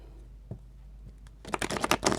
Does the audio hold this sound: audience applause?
no